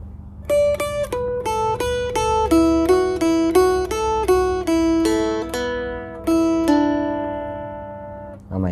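A plucked Thai phin lute plays a slow melody of single bright notes, each ringing and decaying, stepping through a short phrase alone.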